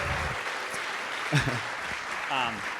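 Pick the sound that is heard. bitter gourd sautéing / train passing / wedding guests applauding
wedding guests applauding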